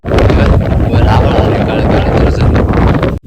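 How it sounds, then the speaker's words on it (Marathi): Strong wind roars steadily outdoors near a house, a loud, dense, unbroken rush buffeting the microphone for the whole few seconds. "खतरनाक बरं वार आले"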